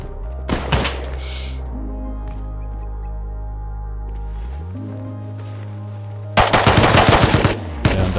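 A Thompson submachine gun fires in the video game Rust, with a first short burst early on and a heavier, dense rapid volley near the end, loud over a steady droning background tone.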